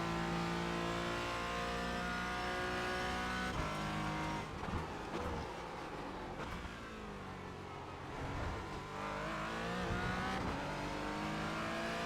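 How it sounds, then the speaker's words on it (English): A race car engine at Spa in the iRacing sim roars continuously and loudly, revving up and down through gear changes with a steady, harsh mechanical drone throughout, no voices. "iRacing is normally pretty good with the engine sounds, but this sounds terrible"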